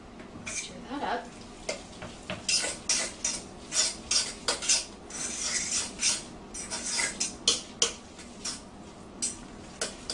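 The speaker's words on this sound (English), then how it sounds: "I'm going to add a little bit more of the mayo. And" Tuna salad with mayonnaise being stirred and mashed by hand, a gluten-free school lunch filling, giving a series of close, irregular scraping and clinking strokes of utensil against bowl, with some talk over it.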